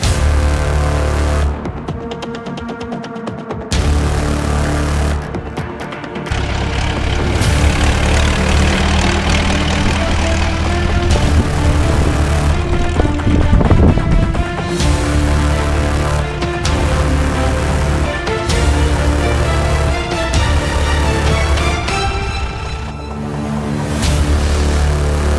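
An old tractor engine starts and runs steadily and loudly up close, setting off for a hay field during traditional haymaking, its low rumble continuous with small shifts in pitch.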